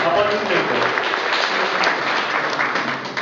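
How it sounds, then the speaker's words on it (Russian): A crowd applauds, dense steady clapping that fills the whole stretch and fades slightly at the end. "аплодисменты"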